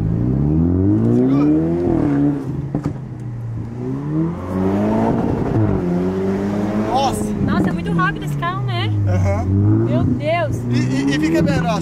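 A car engine revs hard and climbs in pitch while held in first gear on a track, rising and falling in repeated surges, loud and near, with people talking over it.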